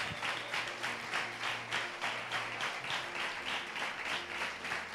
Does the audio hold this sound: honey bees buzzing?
no